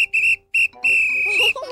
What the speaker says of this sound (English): Barney, you forgot your whistle